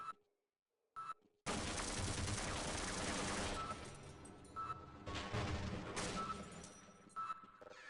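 Automated turret in Half-Life opening fire after a quiet start and a couple of short clicks, unleashing loud, dense bursts of rapid gunfire that ease off and return in choppy volleys.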